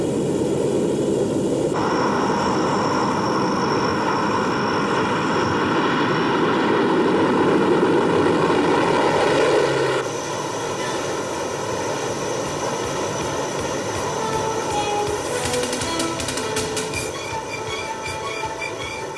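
Engines of a Hercules military transport aircraft give off a loud, continuous droning roar. The drone holds steady, then drops slightly in level about halfway through and keeps going without any voices.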